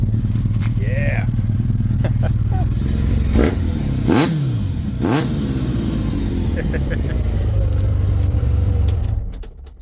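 A Ninja motorcycle engine swapped into an Autozam kei car runs loud and close, a steady buzzing idle broken by a few sharp revs in the middle before cutting off at the end.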